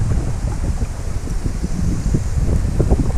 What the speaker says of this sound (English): This is too windy, man. Too windy.